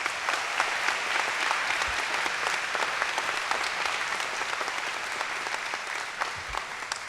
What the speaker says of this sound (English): So give them a big round of applause too,